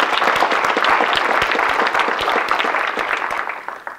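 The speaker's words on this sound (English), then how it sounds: "we should give her a clap anyway" Audience at a college awards ceremony claps for an absent honoree, a steady round of applause with distinct individual claps that gradually thins out and fades near the end.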